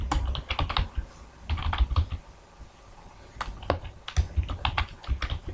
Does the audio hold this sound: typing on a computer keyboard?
yes